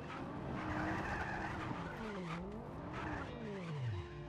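Car tires skidding and screeching in Just Cause 3, a sustained squeal that bends up and down in pitch over a rumbling engine, continuous and close, no speech.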